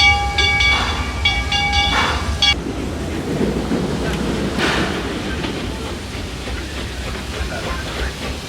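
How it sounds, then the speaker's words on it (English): A theme-park train rolls into Texas Depot at Johnson Creek Station, whistle tones sounding at the start, then a steady rumble and hiss of the cars as it pulls in, with crowd noise around. "you can enjoy the train as it pulls into the station here in the Texas section at Texas Depot, Johnson Creek Station"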